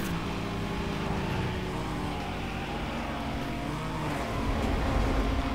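Racing cars in NFS Most Wanted, including a Toyota, with a continuous engine drone and shifting pitch that builds a little louder toward the end.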